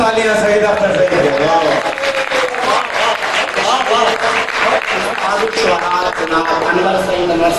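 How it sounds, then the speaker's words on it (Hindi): Loud, dense applause from a crowd at a mushaira for poet Saeed Akhtar Saeed, sustained clapping throughout with voices mixed in. "भाई जोरदार तालियां सईद अख्तर सईद के"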